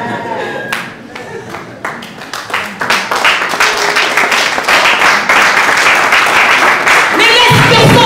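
A church congregation applauds and cheers, the clapping building from scattered claps into loud, sustained applause under a speaking voice.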